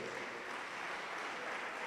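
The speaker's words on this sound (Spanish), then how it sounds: "Vamos, déle lo más fuerte ese aplauso al Señor" A church congregation applauds steadily for the Lord, a dense, continuous wash of clapping from a crowd without a break, filling the room with no voice rising above it.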